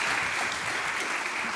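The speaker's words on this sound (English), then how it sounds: "let's give a warm applause to our panelists" Audience at a Europe forum session clapping for the panelists, a dense continuous round of applause from a crowd, steady and fairly loud throughout.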